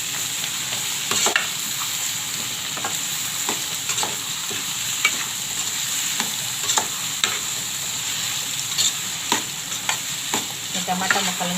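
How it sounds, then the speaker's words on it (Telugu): Tomato pieces and turmeric fry in a pan, a steady bright sizzle running throughout while a spoon scrapes and stirs in irregular clacks and scuffs, close and alone with no voices. "దీంట్లో 1 టేబుల్ స్పూన్ పసుపు వేసుకుంటున్నాను. మొత్తం బాగా కలుపుకుందాం."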